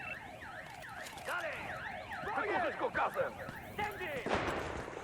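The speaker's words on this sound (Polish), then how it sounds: "Jeszcze ten jebany alarm się włączył." An alarm in the video game Battlefield Hardline warbles in rapid, repeating up-and-down sweeps, layered with game noise and a few sharp bursts, at moderate level.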